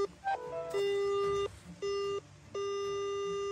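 A laser treasure detector gives a series of electronic tones outdoors at night in the mountains, with a short rising chirp followed by several long, steady beeps separated by brief gaps.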